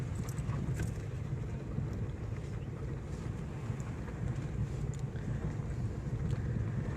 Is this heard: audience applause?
no